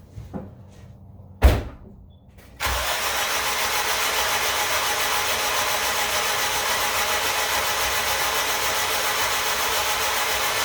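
A turbocharged AWD Honda Civic EM2 with a new full exhaust fires up after a couple of short knocks, then settles into a loud, steady broadband engine roar that continues unbroken to the end.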